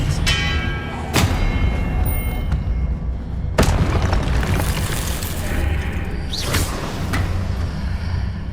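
Confringo spells blasting in Hogwarts Legacy, several sharp booming impacts spaced a few seconds apart over a constant loud rumbling game background.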